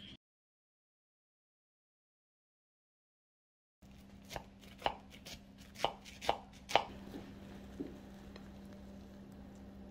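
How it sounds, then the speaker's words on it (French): After a few seconds of silence, a knife slices through cooked food on a board in five or six crisp, separate chops spaced about half a second apart, close and clear. "Maintenant, je vais le couper."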